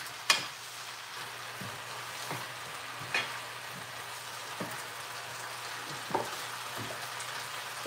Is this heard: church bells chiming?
no